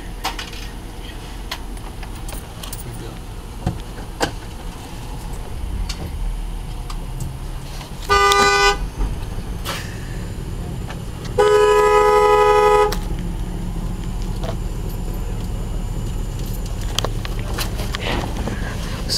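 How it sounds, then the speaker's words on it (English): Car horn honks at a fast-food drive-thru lane, one short toot followed by a longer blast, both clear over the low hum of idling traffic with no talking. "Someone honked."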